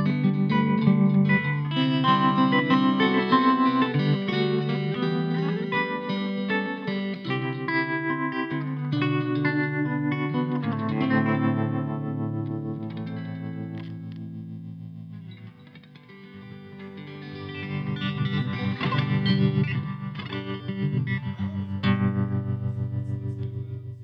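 An electric guitar rings out through a Fender Mustang amplifier's factory effect presets, sustained chords swelling and shimmering, briefly dipping before returning loud.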